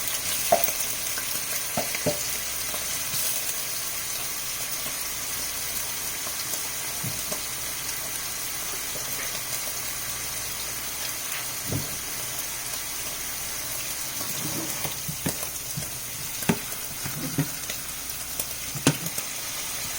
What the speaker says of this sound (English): I'm going to go ahead and cook the shrimp now